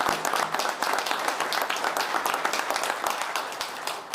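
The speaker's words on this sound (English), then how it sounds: "the entire airport staff deserves a huge round of applause" An audience at the grand opening of an airport passenger terminal applauds, a crowd of many hands clapping in a dense, even patter that carries on steadily and fades a little toward the end.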